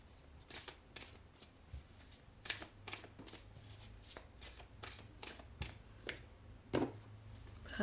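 A deck of oracle cards is shuffled by hand, giving a quick run of crisp riffling bursts and slaps at close range, fairly quiet, with no voices.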